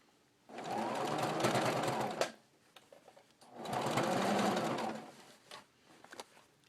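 A sewing machine stitches a fabric patch in two long, steady whirring runs, each about two seconds, with a pause of small handling clicks between them and a few light taps after.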